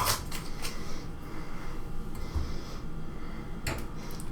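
Tape peels off the lid of a top-load LG washing machine with short, crackling rips at the start and again near the end. Between them is a steady, muffled rustle.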